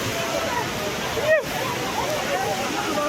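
Water rushing over hills, rocks and steps at a scenic viewpoint along a Hyderabad-to-Goa road trip, a steady, loud, close broadband rush filling the whole clip without a break.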